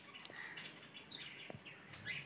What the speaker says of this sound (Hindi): हरिया चिड़िया